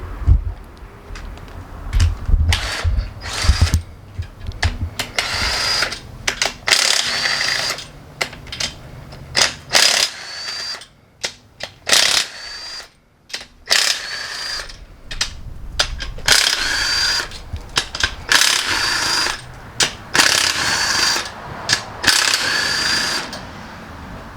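A power tool, likely a ratchet or impact gun, works the main cap bolts off a flipped-over LS engine block during a budget turbo build. Loud, repeated mechanical bursts and rattles come in quick runs, separated by short pauses.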